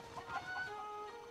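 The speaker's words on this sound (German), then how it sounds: "Alle Hühner." Chickens cluck in quick, soft bursts in the video game The Legend of Zelda: Breath of the Wild, a faint, steady fowl chatter with no talk over it.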